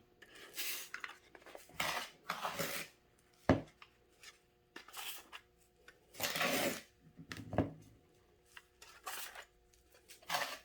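A tablespoon scoops food into a storage container in a string of close, irregular bursts of scraping and clinking, with short pauses between scoops.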